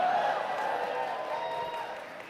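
An audience at a political speech cheers and applauds in a steady wash of crowd noise that fades slightly, with voices mixed in.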